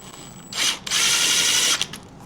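Power drill driving screws through pre-drilled holes into an aluminum Pin It racing TPI/TBI end cap with spark arrestor, two loud whirring bursts, a short one then a longer sustained run, close up with no talking.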